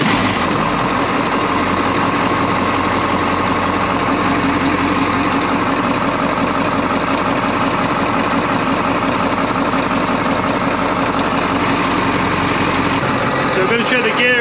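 A Detroit Diesel 8.2L marine engine running close by, a loud, steady low diesel drone with constant mechanical clatter, unchanging throughout, with a voice speaking over it near the end.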